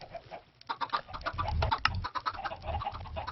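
Chickens in a Minecraft automatic cooked-chicken and feather farm cluck repeatedly in quick overlapping bursts, with no speech.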